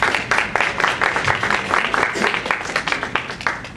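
Audience at a tutor and mentor panel discussion breaking into applause, a dense, lively wash of close clapping with individual sharp claps throughout, fairly loud.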